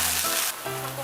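Chive pancake batter (buchu jeon) being stir-fried in a hot pan at a rainy valley campsite gives off a loud, continuous close sizzle that briefly drops and then resumes.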